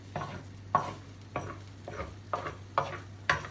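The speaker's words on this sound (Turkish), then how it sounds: "İyice karıştırıyoruz." Tantuni meat is stirred in a pan with water added, giving rhythmic scraping strokes about every half second over a soft sizzle, close and fairly quiet.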